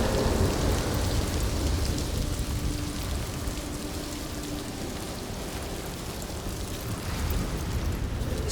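Steady, dense rain pours down throughout a storm brought by the sea giant Sjávarisi in Senua's Saga: Hellblade II, with a low rumbling undertone like distant thunder and no voices.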